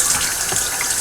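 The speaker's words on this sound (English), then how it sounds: "just by swishing around some water, that activated carbon" Water splashes and gushes as activated carbon from an Eheim 2213 aquarium filter is swished and rinsed by hand, a brief, fairly loud wet sloshing heard alone.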